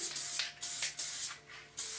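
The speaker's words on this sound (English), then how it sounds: "And I'm just using the Elmer's spray adhesive, but you can buy about any kind of a spray glue." Elmer's spray adhesive hisses from an aerosol can in several short bursts, each a loud close spray separated by brief pauses, with no talk.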